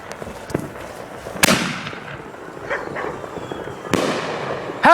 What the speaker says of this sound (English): we're gonna light the first firework of the night.